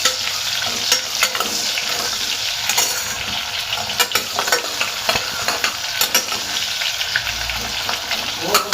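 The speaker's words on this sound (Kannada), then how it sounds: "ಸೊ ಇದಕ್ಕೇ ಈರುಳ್ಳಿ ಹಾಕ್ತಾಯಿದ್ದೀನಿ." Onions frying in oil for paneer veg biryani, a bright steady sizzle close up with frequent clinking stirs and scrapes of a utensil against the pan.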